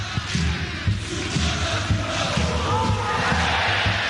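Crowd at a Bali United football match in Bali chanting in steady rhythm, with repeated low drum beats throughout, loud and close, under a commentator's voice.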